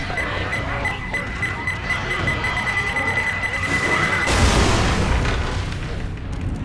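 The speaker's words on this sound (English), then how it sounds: "Throwing a pipe bomb." Pipe bomb detonating in the zombie shooter Left 4 Dead 2, a steady beeping tone giving way to a loud broad blast with rumbling debris and crowd noise, the explosion dominating the last two seconds.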